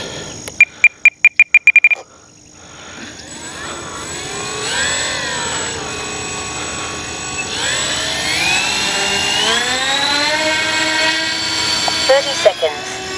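An Avios Albatros V2 RC seaplane's electric motor spins up after a few sharp clicks, its whining pitch rising and falling as the throttle changes, loud and close for several seconds.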